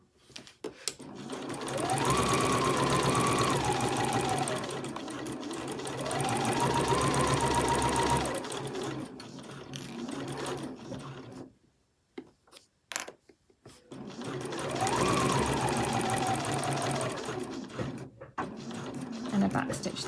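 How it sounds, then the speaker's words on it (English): A sewing machine runs a seam in long, loud whirring passes whose pitch rises and falls with speed, broken by a pause filled with clicks of back stitching and handling, then running steadily again; a voice talks over it. "And then we're going to sew just as we did before"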